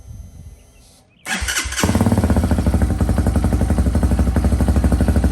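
An Xpro Hawk 250cc EFI dirt bike fires up after a brief quiet lead-in, then settles into a loud, close, steady single-cylinder idle with a fast, even putter.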